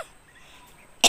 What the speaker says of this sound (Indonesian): Batuk.